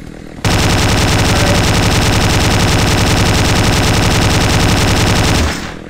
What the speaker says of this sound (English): this weapon has no recoil, so you can just keep firing at them